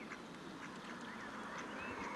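Ducks quacking in a park while being fed, a few faint, scattered calls rising out of steady outdoor background noise.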